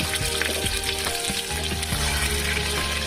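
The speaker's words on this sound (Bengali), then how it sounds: "কুকারেতে সরষের তেল দিয়ে দিছি, দিয়ে দিয়ে দুটো তেজপাতা, পেঁয়াজ দিয়ে দিচ্ছি" Onions and two bay leaves frying in mustard oil inside a pressure cooker, a steady close sizzle with irregular stirring scrapes throughout, no voices.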